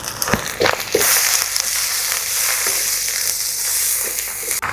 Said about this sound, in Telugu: అల్లం పచ్చివాసన పోయేదాకా వేయించుకోవాలి.